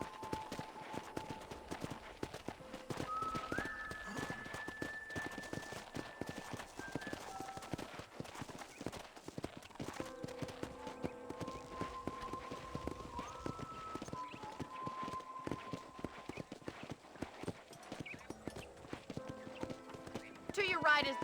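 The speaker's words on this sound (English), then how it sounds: "let's see if you can still ride a horse." Horse hooves clip-clop at a steady riding gait on a ranch in the video game Red Dead Redemption, with an occasional whinny, under game music and voices talking throughout.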